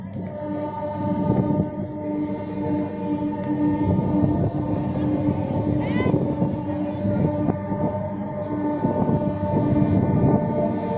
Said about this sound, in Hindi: ये देखो ट्रेन खुल जाए अरगोड़ा से लोहरदगा जाए खातिर